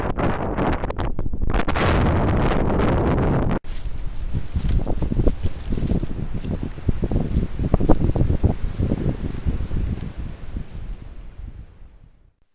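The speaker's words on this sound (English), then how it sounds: "Winds are super fierce today." Strong gusting wind roars outdoors, buffeting the microphone with loud, continuous rushing noise that swells and fades, with occasional rustling and thumps before it dies away.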